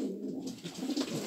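A Polish show pigeon, a selected male of the Polish postal show breed, gives a short, close, low cooing call, fairly soft and alone.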